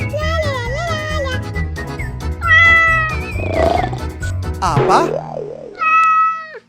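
A cat meows repeatedly in high, wavering cries, close and loud, interleaved with someone speaking in an airport setting.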